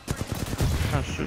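Short burst of rapid automatic gunfire in the video game Titanfall 2, a quick rattling string of shots followed by heavier impact noise, close and loud with a voice mixed in.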